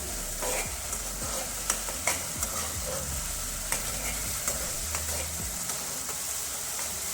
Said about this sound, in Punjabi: ਮਸਾਲਿਆਂ ਨੂੰ ਆਪਾਂ ਚੰਗੀ ਤਰ੍ਹਾਂ ਭੁੰਨਾਂਗੇ ਜਿੰਨਾ ਚਿਰ ਸਾਡਾ ਤੜਕਾ ਤੇਲ ਨਹੀਂ ਛੱਡ ਦਿੰਦਾ